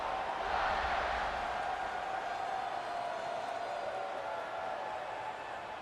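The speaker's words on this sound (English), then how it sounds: "this crowd is feeling themselves after that last drive" A stadium crowd in the video game EA Sports College Football 26 roars in a steady, dense wash of cheering, holding at an even level throughout.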